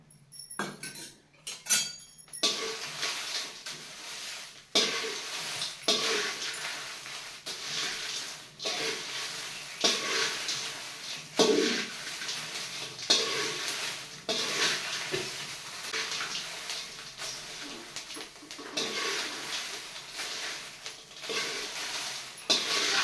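Dried chillies fry in small splashes of oil for Satara-style masala, with a low sizzle under repeated scraping and clinking of a spoon against the pan, close and steady throughout.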